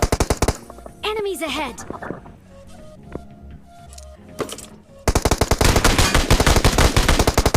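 Rapid automatic gunfire from a mobile battle royale game, loud bursts at the start and a dense, continuous stream of shots in the final seconds, with quieter in-game sounds and a brief voice in between.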